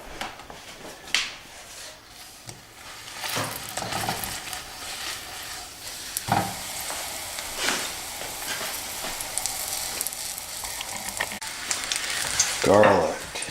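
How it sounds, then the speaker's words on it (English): Extra virgin olive oil crackles in a hot pan, a soft, fairly quiet sizzle marked by a few scattered clinks and handling knocks and a louder burst near the end, with no talking. "Hot pan, a little bit of extra virgin olive oil."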